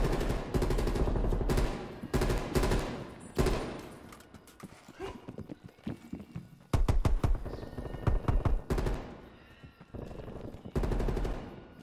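Video game gunfire in a Prop Hunt round: repeated bursts of close, loud shots and rapid fire, coming in clusters with short gaps between them and no talking.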